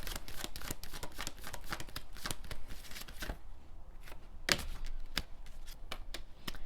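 A deck of fortune cards being shuffled and a card drawn: a quick run of crisp, close riffling flicks, then a few separate sharp card snaps, quiet and with no talking.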